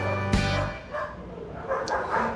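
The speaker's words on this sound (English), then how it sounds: "there are a lot of dogs in the neighborhood, and of course they like to bark whenever people walk by" Dogs bark in a neighborhood in Baja, Mexico, with one sharp, loud bark near the start followed by fainter, scattered yips and barks in the background.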